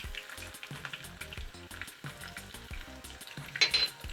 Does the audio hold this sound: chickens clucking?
no